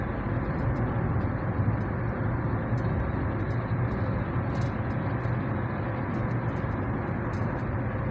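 Road traffic heard from inside a moving vehicle in congested conditions, a steady broadband rumble and road roar at constant loudness with no distinct events, no talk.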